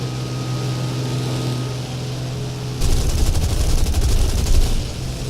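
Aircraft guns firing in the combat video game War Thunder: a droning engine gives way to a sustained rapid burst of loud machine-gun fire over the engine noise.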